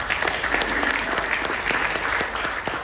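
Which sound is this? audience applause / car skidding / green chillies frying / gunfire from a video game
audience applause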